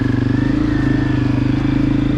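A Honda CRF250F dirt bike engine thrums steadily while riding. The pulsing exhaust note is loud and close, holding an even rhythm throughout without revving up.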